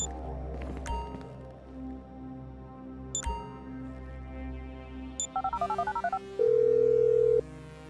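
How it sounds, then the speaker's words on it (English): A phone call is dialed in the video game GTA V: interface beeps and chirps, a quick burst of keypad tones, then a steady dial tone, over low game ambience with no talk. "I'm making the call."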